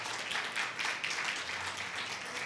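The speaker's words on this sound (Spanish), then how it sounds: "Un aplauso a Jesucristo." A church congregation applauds during a Bible teaching service, a soft, fairly distant wash of many hands clapping that swells and eases over a couple of seconds.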